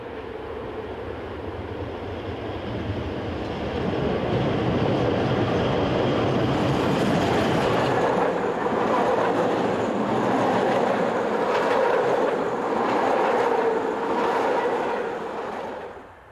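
Swiss Ae 4/4 electric locomotive number 258, a class over 60 years in service, runs along the rails with a steady, loud rolling rumble that swells after the first few seconds, holds for most of the pass, then drops away at the end.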